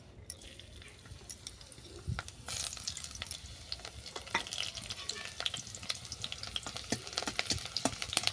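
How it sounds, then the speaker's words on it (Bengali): Chopped garlic fries in hot mustard oil, a soft crackling sizzle that builds after a couple of seconds, with scattered sharp pops and spatters throughout at a fairly low level. "রসুনগুলোকে বাদাম করে ভেজে নেবো"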